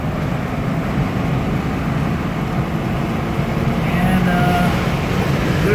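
A 1976 Cadillac Eldorado convertible with about 10k miles drops into passing gear and accelerates, its engine a steady loud roar under road and wind noise, with someone talking over it.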